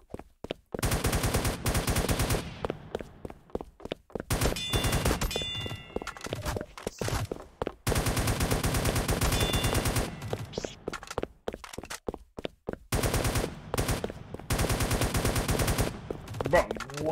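Automatic gunfire bursts from a Roblox shooter game, dense rapid volleys filling most of the stretch with brief pauses between bursts, loud and close.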